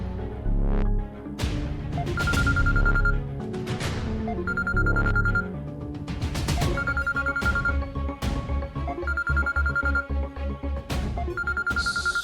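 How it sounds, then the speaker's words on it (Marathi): A telephone rings with repeated electronic ringtone bursts in a steady rhythm over a background music bed, in a Marathi TV serial scene, loud and continuous, without voices. "सुजित सरांचा फोन"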